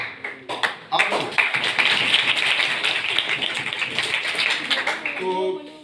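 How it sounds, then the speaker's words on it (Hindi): Hands clap for a girl at a programme, with a few separate claps that quickly swell into a dense, steady round of applause before a voice comes in at the end. "मैं इस बेटी के लिए जो है तालियां बजा रहा हूँ माशाल्लाह"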